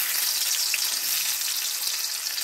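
Pumpkin slices frying in a little hot oil in a wok, a steady close sizzle with fine crackling spatter running throughout, no voices.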